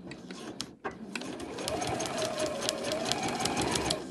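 A sewing machine stitches binding onto a bag lining, a near, steady rapid mechanical chatter that starts after a brief pause and runs evenly to the end.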